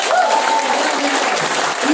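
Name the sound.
applause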